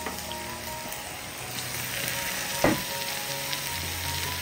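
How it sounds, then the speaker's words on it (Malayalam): Washed, cut pieces of beef brain go into a hot pan and sizzle steadily, a loud continuous frying hiss with a sharp burst as they land midway. "നമുക്ക് കഴുകി വൃത്തിയാക്കി കട്ട് ചെയ്ത് വെച്ചിരിക്കുന്ന ബീഫിൻ്റെ ബ്രെയിൻ ചേർത്ത് കൊടുക്കാം"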